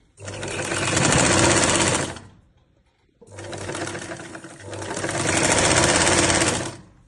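A sewing machine stitches a sleeve onto a shirt in two close, loud bursts of rapid needle chatter, about two and four seconds long, separated by a short pause.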